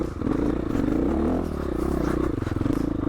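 Dirt bike, either a Honda CRF450L or a KTM 500 EXC-F, ridden in first gear on a rough trail: a steady close engine drone with a low pulsing rhythm, mixed with clattering and scraping from the terrain, no speech.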